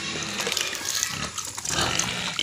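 Pigs on a farm in Assam eat grain feed, giving a close, continuous mix of wet munching, snuffling and rustling with no voices.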